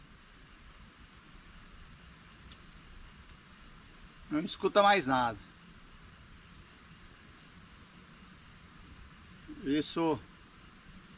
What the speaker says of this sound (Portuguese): Só o choro dos bichos aí na natureza, grilo.